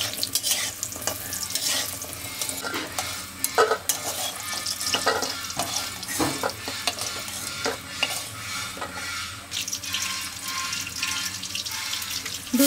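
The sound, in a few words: lentil dumplings (bori) frying in oil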